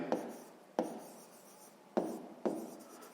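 Pen writing a math solution on paper, close and quiet, with four distinct strokes landing in uneven rhythm, each a brief scratchy tap that fades into soft scraping, with no voice.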